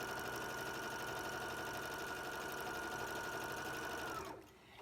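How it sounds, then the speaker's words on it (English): A sewing machine runs steadily with the needle-down setting as it stitches a long quilt seam from one end to the other, a close, continuous mechanical whir that holds for about four seconds before cutting off. "start on one end and sew down through to the other end"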